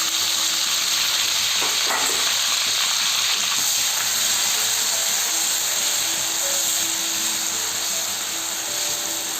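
Onion paste hits hot oil in a kadai with whole garam masala and dried red chillies, a loud, steady, close sizzle and hiss with faint stirring, and no voices.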